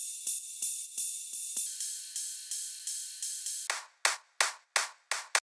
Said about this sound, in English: I also added some rides and claps for extra pluckiness and it gives extra high frequency